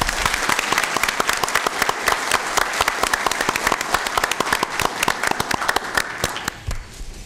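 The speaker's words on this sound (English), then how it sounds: "And how about a round of applause for our Sheriff's Color Guard," A round of applause for a Sheriff's Color Guard at a county Board of Supervisors meeting: dense, steady clapping from a seated room audience that holds for several seconds, then thins out near the end.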